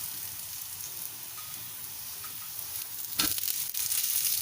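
Masala akki rotti, a thin spiced rice-flour flatbread, roasts on a hot pan with a steady, close sizzle. The crackle swells louder near the end.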